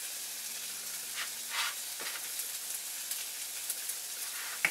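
Seasoned cube steak with garlic salt and pepper sizzles on a flat top griddle, a soft, steady hiss with a few faint crackles and pops, heard alone without talk.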